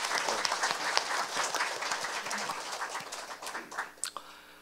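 An audience at a special education forum claps in encouragement, a dense burst of applause that thins out toward the end into a few scattered, distinct claps.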